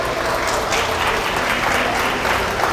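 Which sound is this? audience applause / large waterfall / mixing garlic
audience applause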